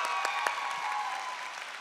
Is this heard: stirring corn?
no